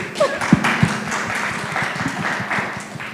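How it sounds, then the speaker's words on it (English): An audience at a healthcare quality forum claps for a few seconds after a speaker is introduced. The applause is close and irregular, with distinct individual hand claps, and it fades unevenly. Nobody talks over it. "Clap for her too"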